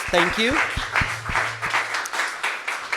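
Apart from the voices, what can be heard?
audience applause for the guests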